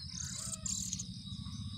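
Jongkangan chicks chirp softly in a thin, high, steady twitter, heard up close but quiet over a low rumbling hum, with nobody speaking.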